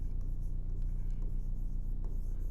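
Pen scratching on paper as words are written by hand during a geometry lesson, soft repeated strokes close up over a low steady hum.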